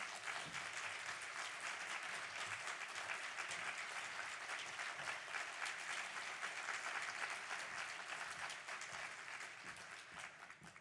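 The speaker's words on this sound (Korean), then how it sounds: "여러분 박수해 주시면 감사하겠습니다" A church congregation at a seminary spring revival meeting applauds, dense steady clapping that continues for several seconds before easing slightly at the end, with no voices on top.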